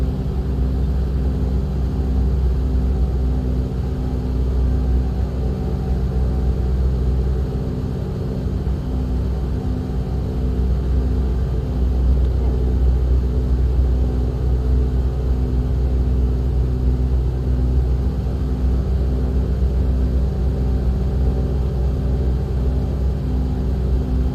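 A small plane flies through turbulence over the Grand Canyon, its engine drone a steady, loud, low rumble that holds with no voices for more than twenty seconds.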